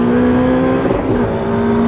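A Ferrari 488 Pista, 3.9-litre twin-turbo V8 supercar from 2019, drones at steady revs with a strong harmonic engine tone, close and continuous, with a brief shift in pitch partway through.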